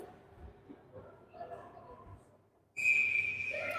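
A referee at a youth peewee hockey game gives a firm whistle blast that cuts in sharply after a quiet stretch of faint rink noise and holds steady to the end.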